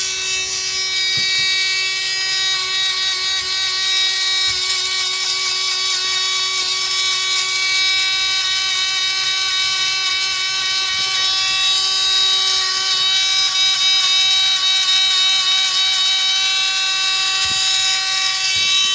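A Dremel rotary tool grinding a dog's nails gives a steady high-pitched whine that holds for the whole stretch, close and loud, with faint soft knocks beneath and no talking.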